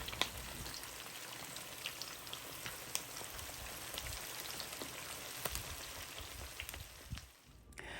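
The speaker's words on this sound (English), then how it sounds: "Make sure to keep a close check on your chicken to make sure it is frying well." Chicken frying in a skillet for old-school smothered chicken gives a steady, dense crackle and sizzle that runs unbroken throughout, with scattered pops and no voices.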